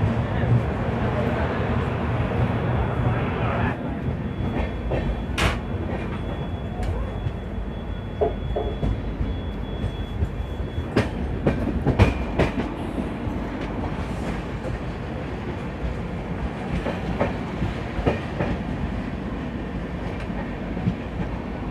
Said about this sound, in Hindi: 2 मिनट रुकने के बाद हमारी ट्रेन जो है कटपाड़ी से खुल चुका है